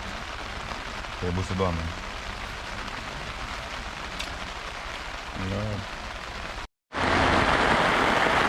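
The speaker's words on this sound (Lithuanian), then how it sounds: "Bet vis smarkėja lietus." Heavy rain drums steadily on a surface during a thunderstorm, a dense continuous hiss that grows louder toward the end, with brief talk over it and a short gap of silence.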